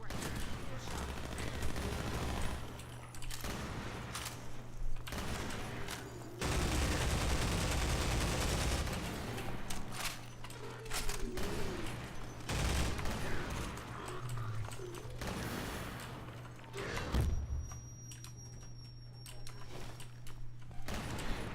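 Shotgun blasts from Half-Life 2 Episode 2 with the MMOD mod, fired repeatedly at crates to break them for ammo, sounding as dense bursts of gunfire amid game noise while a person talks over it.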